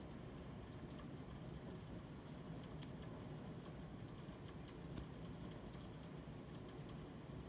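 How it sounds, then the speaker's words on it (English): Heavy monsoon rain pours down in a steady, dense wash, with a faint crack high in the mix near the three-second mark. "Oh my gosh, it's raining hard."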